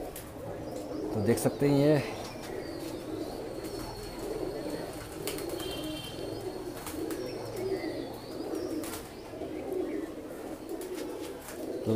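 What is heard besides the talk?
golden pigeons cooing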